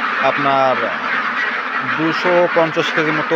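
A flock of some 2,700 ducks on a farm quacks in repeated nasal bursts against a dense, constant crowd of calls, while someone talks over them.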